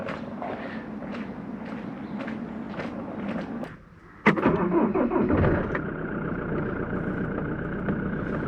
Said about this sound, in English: it's not a new start mower, I just didn't record the first 2 attempts